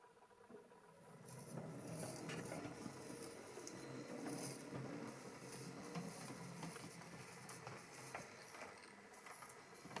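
A Rapido LBSCR E1 class model locomotive, fitted with a flywheel, runs over track points and a second-radius curve, giving a steady close mechanical whir with light rhythmic clicking and ticking of wheels over rail joints throughout.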